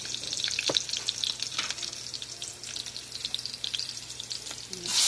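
Onion frying in a pan for a vegetable bhaji, a bright close sizzle with scattered crackles and occasional stirring scrapes, growing louder at the end.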